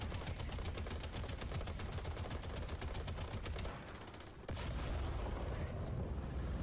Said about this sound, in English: But the fast reload of the M4A176 and the machine gun helps me to deal with this situation.